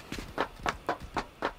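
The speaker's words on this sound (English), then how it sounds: "This is where you got to have those ears on because you can hear those footsteps." Footsteps in a multiplayer shooter tournament match thud in a quick, even rhythm, five or six close, distinct steps with no talk over them.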